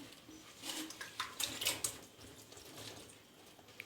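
Whey trickles and drips from a cloth bag of strained raw-milk yogurt, a soft, uneven watery patter close by with brief splashier bursts, no voices.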